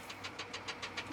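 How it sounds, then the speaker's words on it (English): A farm tractor used for blading ditches and roads runs with a steady, rhythmic chugging pulse, heard close and alone. "So this is the tractor that gets to run the blade for, we got 6 farms."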